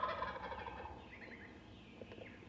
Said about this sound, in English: you may hear a gobbler on the roost